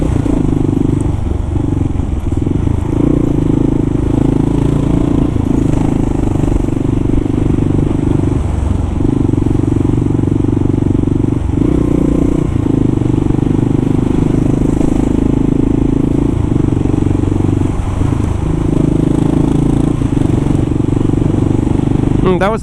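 A Kawasaki KLR motorcycle carrying a big box rolls along a rough, bumpy off-road stretch, its engine a steady, loud, low rumble with occasional clattering bumps throughout.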